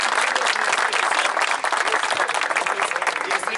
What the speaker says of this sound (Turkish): Onlara da bir kocaman alkış.